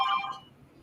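A phone notification chime sounds during a live stream, a short bright tone at the start that quickly fades into quiet room noise.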